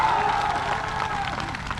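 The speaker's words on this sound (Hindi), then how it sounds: "पहले मैं चाहूंगा कि एक बार जोरदार ताली से" Rally crowd in Motipur giving a loud welcoming round of clapping, dense and sustained across the whole stretch, with a faint voice audible early on beneath the applause.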